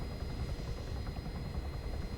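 A helicopter engine in a military video game drones with a steady low rumble and thin high whine, moderately quiet and continuous throughout.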